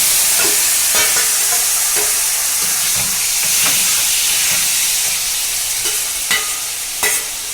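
Marinated chicken pours into hot oil in a wok and sets off a loud, continuous sizzle with steamy hissing, while faint stirring clicks and scrapes tick along underneath.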